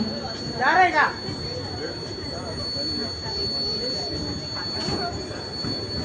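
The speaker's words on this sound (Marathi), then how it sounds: "धीमी लोकल थोड़े ही समय में प्लेटफॉर्म क्रमांक 3 पर आ रही है" A slow local train rumbles steadily nearby as it arrives at platform 3, its wheels giving a brief high squeal early on, while a station announcement voice speaks over the noise.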